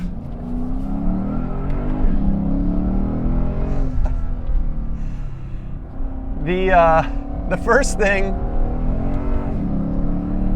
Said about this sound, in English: this 5-liter V8 engine